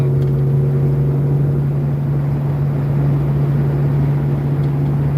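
A car in fifth gear overdrive gives a steady, loud engine drone with a strong low hum, cruising on a breezy road and struggling to pull. No one speaks.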